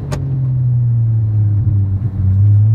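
A 2011 Porsche 911 Turbo S engine drones steadily and loud close by, with a low sustained rumble that swells slightly toward the end and a brief sharp click near the start.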